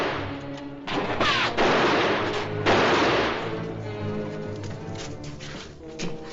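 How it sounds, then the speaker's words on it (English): Gunfire in a canyon outlaw shootout, with repeated sharp cracks and a dense volley of shots up close, loud and overlapping, followed by scattered single reports. "Guns firing."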